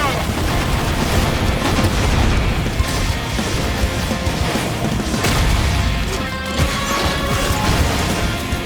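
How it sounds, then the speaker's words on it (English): Missile strikes and explosions pound through a rat mech battle in Fist Forged in Shadow Torch, with heavy crashing booms and mechanical clatter rolling continuously over several seconds, loud and close. "Eat my missile!"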